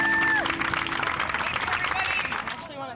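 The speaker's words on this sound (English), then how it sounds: "clapping. That's a good sign." Audience applause and clapping after a yo-yo show, a broad wash of hands with some crowd noise, steady through the clip and fading near the end, with a couple of brief whistle-like tones early on.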